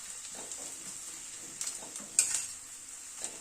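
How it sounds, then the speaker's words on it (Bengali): Onion and garlic frying in a pan, stirred with a spoon: a soft, faint sizzle carries throughout, broken by a few light scraping taps of the utensil against the pan. "আবারও একটু মিনিট খানেক নাড়াচাড়া করে নিলাম।"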